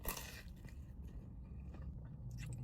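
Someone bites into the crunchy edge crust of a Papa John's pan pizza, giving a close, crisp crunch followed by soft chewing noises with no talking.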